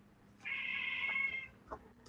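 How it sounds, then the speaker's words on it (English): An agitated house cat lets out one long, drawn-out angry meow close by, followed by a brief short chirp-like cry, in an otherwise quiet room. "that's my cat, Sasha."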